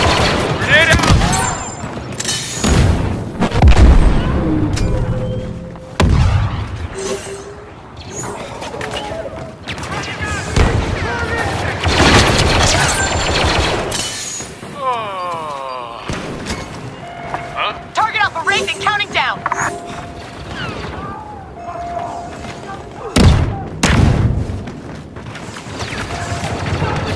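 Grenade blast and rapid gunfire during an online Strike match at the Hoth Rebel Base in Star Wars Battlefront 2, loud repeated bursts and booms crowding together, with voices calling out over the action.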